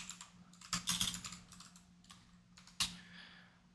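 Keys clatter in irregular bursts on a computer keyboard during Microsoft Excel work, quiet and close, with a denser flurry near the start and a sharper stroke later on.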